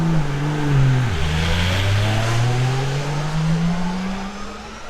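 Audi R10 TDI V12 turbodiesel race car heard from onboard, a loud deep droning engine note that dips sharply on a shift and then climbs steadily as it pulls through the gear.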